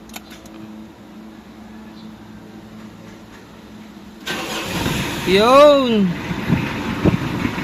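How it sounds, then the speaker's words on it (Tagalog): A car with a repaired starter cranks and catches, the engine rising into a louder revving rumble and then settling into a steady idle, close by, with voices speaking over it. "Umandar na siya, guys. Nagana yung starter."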